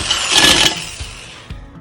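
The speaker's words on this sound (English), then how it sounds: "put the drill over it, and then it should go straight through" A power drill boring through the metal lid of a mason jar: a harsh grinding whine that peaks briefly, then gives way to a couple of sharp clanks as the lid rattles, close and loud.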